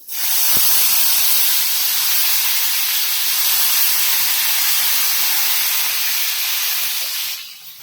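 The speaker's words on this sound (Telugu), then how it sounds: "ఆయిల్ బాగా వీటెక్కింది, కరివేపాకు వేసుకుందాం." Curry leaves and coriander hit hot oil in an Indian home kitchen, setting off a loud, steady, spray-like hiss and sputter that holds for several seconds before cutting off abruptly.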